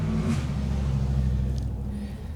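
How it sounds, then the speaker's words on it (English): A loud car passes near a backyard vegetable garden, a low rumbling engine drone that swells and then fades as it goes by. "Somebody has a loud car."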